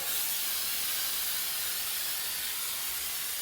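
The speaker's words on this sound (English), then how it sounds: "with a nice, steady, even spray" A steady, continuous hiss of flocking snow spray from an aerosol can onto a wreath, even and unbroken throughout, close to the microphone with no talking.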